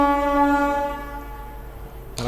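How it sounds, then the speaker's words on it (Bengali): Puducherry Express train sounding a long, loud, steady horn as it departs, the tone fading over about two seconds before a sharp rattling burst at the end. "অন দিয়ে দিল, ট্রেন ছেড়ে দিল,"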